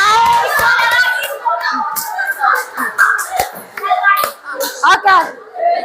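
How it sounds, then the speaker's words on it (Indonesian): Classroom audience of children applauding together, a burst of clapping and hand slaps with young voices chattering over it, fairly close and lively throughout. "Berikan aplaus."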